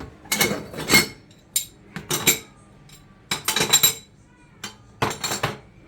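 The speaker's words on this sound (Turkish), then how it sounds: "Üst kapaklarını da koyuyorum." Metal gas stove burner caps and grates being set down for cleaning, giving several separate bursts of clanking and rattling metal with short quiet gaps between them.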